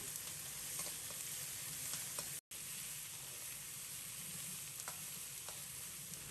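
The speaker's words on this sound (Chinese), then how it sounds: "把鱼扒拉开，放入准备好的小料，炒出香味。" Aromatics stir-fried in a wok alongside pan-fried carp give a steady, close sizzle and hiss of hot oil, with no talk over it.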